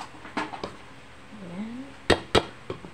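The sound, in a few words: mixing ingredients in a bowl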